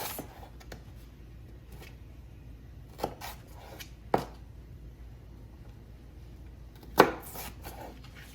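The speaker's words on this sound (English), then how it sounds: "cutting it into strips and then cross-chopping it into smaller pieces" Quiet scraping of a knife on a board, broken by three sharp chops of celery spaced a second or more apart.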